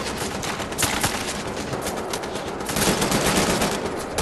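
Continuous rapid gunfire from two weapons fired at once in Wolfenstein: The New Order, a dense, unbroken stream of shots holding steady and swelling louder toward the end, with no talking.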